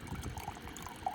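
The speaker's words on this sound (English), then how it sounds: "And if I squeeze it hard enough, I can get a steady stream." Filtered water squeezed from a Sawyer Squeeze filter bag, pouring in a thin, steady trickle outdoors, faint and close, with soft splashing and small drips.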